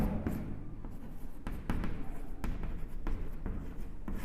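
Chalk or marker strokes written on a board during a maths class, a series of scratchy, tapping strokes with brief pauses between them, close and fairly loud, with no talking.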